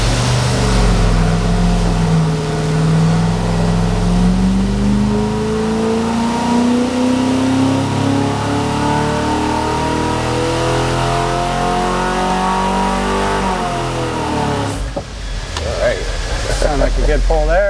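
A BluePrint crate small-block engine revs on a dyno during a pull, its loud mid-pitched roar climbing steadily in pitch before dropping off at the end, with voices briefly audible.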